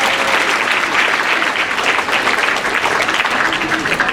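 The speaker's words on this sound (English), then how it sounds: "Let's give your parents a round of applause." Loud, dense applause from an audience fills a middle school winter concert hall, a steady clatter of many hands clapping close by for the whole stretch.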